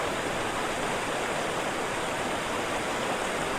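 Steady rushing water of a river stream in a jungle video game, a continuous broadband flow that fills the whole moment with no pauses or voices.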